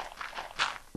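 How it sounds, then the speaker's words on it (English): A few soft footsteps in Minecraft, scuffing faintly in a cave, with one brief louder step near the end. "I can hear footsteps."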